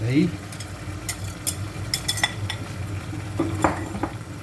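Whisked yogurt going into a pot of frying spices for a prawn biryani, heard as a low sizzle under scattered metallic clinks and scrapes of a spoon against the pot, close by.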